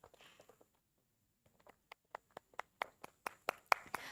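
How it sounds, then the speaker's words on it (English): Scattered claps at a Blue Economy Summit session in Bhubaneswar, sparse and separate sharp hand claps that build slowly from near silence, fairly faint and thin rather than a full ovation. "A big round of applause."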